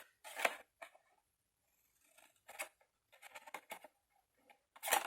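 Scissors snip through material in a few sharp, separate cuts with quiet gaps between them, close and fairly soft, with no talking.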